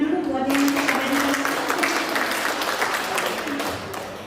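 Applause from the assembled members at a handover-of-office ceremony for the Kowal women's association in Surabaya, a dense wash of clapping after a brief opening, steady and fairly loud before tapering slightly at the end.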